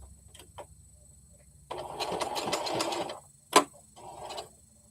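Home sewing machine running a short stitch length around curved applique edges, a steady mechanical whir lasting over a second, then a short burst and a brief clunk, fairly close and alone.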